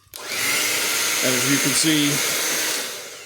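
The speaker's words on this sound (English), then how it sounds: "I have a blow dryer here, 1800 watt or thereabouts blow dryer. It's connected to the output side of your inverter" An 1800-watt blow dryer powered from an inverter's output whirs with a steady, loud airy roar that holds for about three seconds, while a brief hum of a voice sounds faintly underneath.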